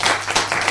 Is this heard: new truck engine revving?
no